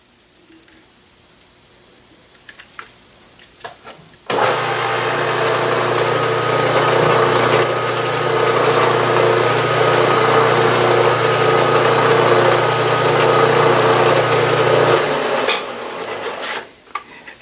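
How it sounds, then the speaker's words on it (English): A drill press with a keyless chuck bores tap-size holes with a number 43 bit in metal for a small vertical steam engine, a steady loud grinding whir with low motor hum running about eleven seconds after a quiet start. "Each hole will be started with a center drill, and this is a number 43 drill bit"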